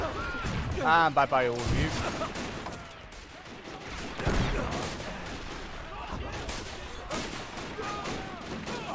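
Great War Realism video game, 1915 Bois le Pretre battle: grenade blasts and gunfire crack in sharp bursts near and far, layered under players talking over voice chat.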